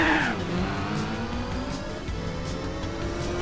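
Nissan Skyline in Gran Turismo 4 on a rally event, engine revving hard with tire noise, steady loud drone and a short burst at the start, no voices.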